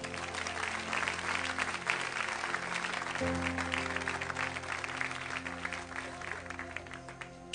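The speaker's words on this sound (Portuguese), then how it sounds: "Vamos a louvar o Senhor com a salva de palmas" Sustained applause from a church congregation after a call to praise the Lord, dense and steady for the full length, with a sustained musical tone and some voices underneath.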